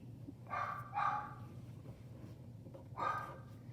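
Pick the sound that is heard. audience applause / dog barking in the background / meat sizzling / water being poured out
dog barking in the background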